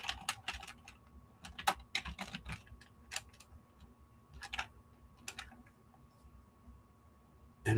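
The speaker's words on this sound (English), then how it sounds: "I type victory. It's Victoria." Light, irregular keystrokes clatter on a computer keyboard in a quiet room, coming in short bursts of several taps with pauses between them and a sharper click at the very end.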